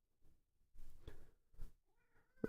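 A house cat meows several times in short, close calls, with quiet pauses between them and one sharper cry at the end.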